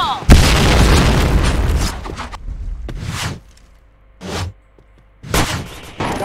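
In a Point Blank shooter match, a thrown grenade detonates with a loud, sustained roaring blast lasting about two seconds, then several shorter sharp bursts of gunfire and explosions follow with quieter gaps between.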